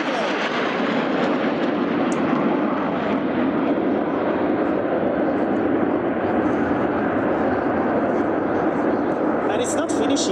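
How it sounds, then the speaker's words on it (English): Jet aircraft of the Frecce Tricolori aerobatic team fly past at the Zeltweg air show, a loud, continuous broadband engine roar that fills the whole stretch, with a crowd or commentary murmur beneath. "Don't miss the cross of the 9 aircraft of the Frecce Tricolori coming on your left"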